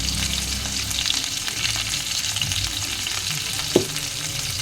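Squash and potato fry in a pan with a steady, close sizzle and crackle. A single soft clunk of stirring stands out near the end, and no one speaks.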